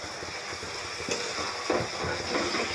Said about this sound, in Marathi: आता यामध्ये घालून घ्यायचे हे लिंब जे आपण कट केले होते ते आधी